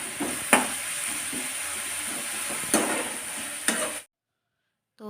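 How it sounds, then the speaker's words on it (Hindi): Cabbage frying in a pan with onion and garlic, a steady close sizzle with a few sharp stirring clatters of a utensil, then it cuts off abruptly near the end. "तो प्याज और लहसुन भुनने के बाद मैंने डाल दिया है पत्ता गोभी"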